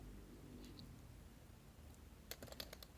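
A short command is typed on a computer keyboard, a brief burst of quick, light key clicks near the end after quiet background hiss, close but faint and without talking.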